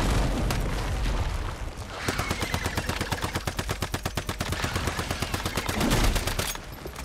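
Sustained automatic gunfire in the post-apocalyptic video game Once Human, with dense, regular rapid shots rattling for several seconds over a rumbling game backdrop and booming effects, and no speech.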